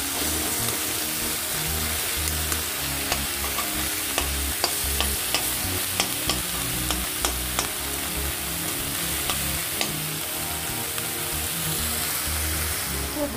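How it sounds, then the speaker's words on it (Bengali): Whole spices frying in a pan before grinding, a continuous sizzle with repeated scraping stirs and small ticking clicks throughout. "তো এটা আমি ভাজতে থাকি বন্ধুরা"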